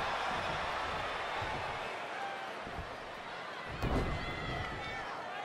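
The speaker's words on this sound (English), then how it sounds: "When you listen to this crowd, they're absolutely electric" Arena crowd at a WWE 2K20 wrestling event in Los Angeles, a steady broad roar of cheering spectators with a sharp thud or slam near the end.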